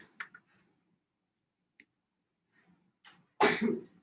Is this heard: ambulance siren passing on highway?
no